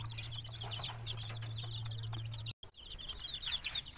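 Chicks peep constantly near a homemade charcoal heater built from a can or tin sheet on a free-range setup, their high chirps overlapping over a steady low hum, with a brief dropout near the end.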